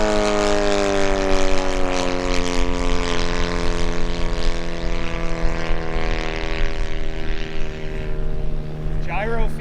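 A 47% scale Pitts Special model aircraft, 2.43 m span with a Valach 170 engine, drones steadily at about three-quarter throttle, a loud sustained harmonic buzz with propeller roar throughout.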